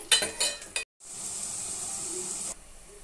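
Onions frying in a pan for Andhra fish curry (bommidala pulusu). A few quick metal clinks give way to a steady, close sizzling hiss that cuts off near the end, with no voices.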